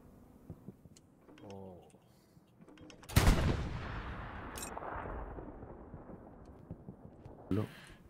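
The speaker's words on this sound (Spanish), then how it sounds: "Y bombardeo en camino." Artillery bombardment in Hell Let Loose: a distant rumble and faint voice, then a single heavy blast that rolls and decays for several seconds, followed by another sharp report near the end.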